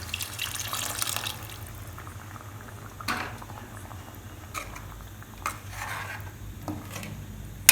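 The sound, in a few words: water poured into pan to rinse out residue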